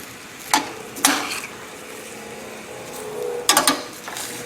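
Fresh sausage and tomatoes cooking down in a pan over high heat: a quiet steady bubbling simmer, broken by a few sharp utensil scrapes and knocks that come in short bursts.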